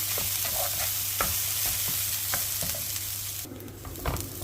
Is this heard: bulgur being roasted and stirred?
yes